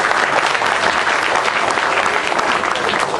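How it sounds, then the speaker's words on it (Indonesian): Audience at a Kenduri Cinta gathering in June 2012 applauding, a dense, steady wash of many hands clapping that holds loud and even throughout without letup. "Tepuk tangan untuk semuanya."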